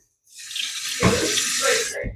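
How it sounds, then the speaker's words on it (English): Water gushes from a kitchen tap into a container, a loud, steady hissing stream that starts abruptly and runs for about two seconds, with a couple of low knocks as it fills. "I'm just going to put some water in here."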